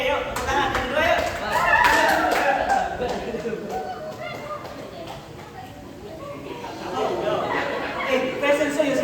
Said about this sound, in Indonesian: Yuk, tepuk tangan yang kedua yuk.